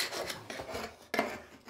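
A small linoleum knife scrapes softened thinset out of tile joints on a bathroom floor, two rough rasping strokes close by, with no voices.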